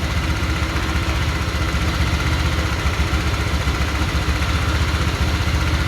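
Cold Honda Vario automatic scooter with a custom exhaust and old, thinned oil idling steadily up close, an even low throb with a slight mechanical noise running throughout.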